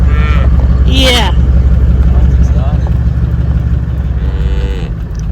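Young cattle in an Australian national park moo over a loud, steady engine rumble, with a drawn-out low call early on and fainter calls later, and human voices mixed in among them.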